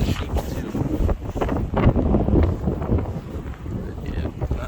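Wind gusting at a black sand beach, a steady roaring rumble buffeting the microphone at moderate loudness for the whole stretch, with no talk.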